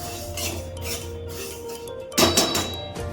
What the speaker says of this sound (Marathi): तर आता ही आपण एका भांड्यामध्ये काढून घेऊया